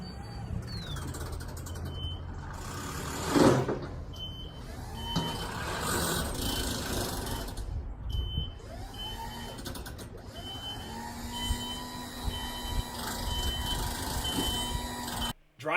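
A scissor lift driving down a sloped driveway with a slipping drive sprocket, giving a steady loud mechanical drone with whines, clunks and hissing bursts throughout, no talking.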